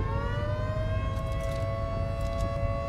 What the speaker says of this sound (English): The sirens go off when you're at a certain amount of time remaining